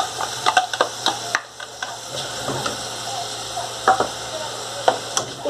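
Onion sautéing in a hot pan for a sururu moqueca, a close crackle and sizzle broken by repeated sharp clicks and scrapes of stirring, with no one talking.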